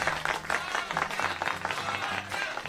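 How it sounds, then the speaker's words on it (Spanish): Applause for a female singer in a radio studio in Guayaquil, steady dense clapping for a few seconds with a low hum and faint voices underneath. "Un aplauso para la señor."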